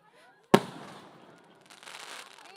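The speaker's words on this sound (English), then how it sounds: "I'm just waiting for the fireworks to get over." Fireworks at a school annual day celebration: a single loud, sharp blast bursts out, its rumble decaying into a long crackling tail, then a second wave of fainter crackles follows.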